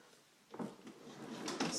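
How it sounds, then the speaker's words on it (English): A craft-room drawer opens with a short wooden slide and bump, then a second scrape, close and fairly quiet with no talk. "another drawer that just opens up"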